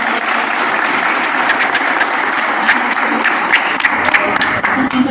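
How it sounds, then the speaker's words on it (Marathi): A crowd at a village assembly meeting applauding, dense steady clapping that fills the whole stretch, loud and close with no pause. "सर्वांनी आपण देवीचं आहे आपल्या लोकांचं श्रेय आहे येणाऱ्या पाहुण्यांचं श्रेय आहे या सगळ्यांच्यासाठी एकदा टाळ्या वाजवून"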